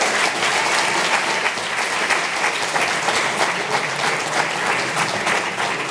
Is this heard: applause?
yes